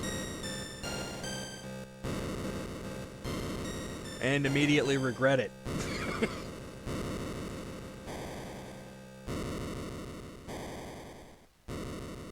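Chiptune title screen music from the Game Boy game Metroid II plays loudly and continuously, with a bright noisy burst midway and changing synth tones, while a voice briefly talks over it.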